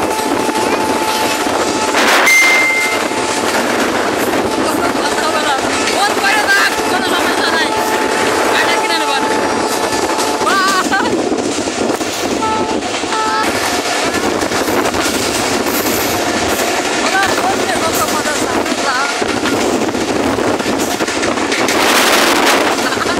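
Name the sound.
passenger train starting and running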